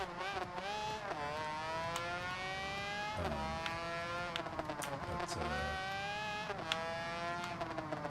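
Motorcycle engine in the racing video game Ride 2 drones steadily with rising and falling revs and repeated gear-shift dips. The engine holds a constant, fairly quiet level throughout with no talk over it.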